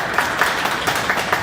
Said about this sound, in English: let's give a round of applause here first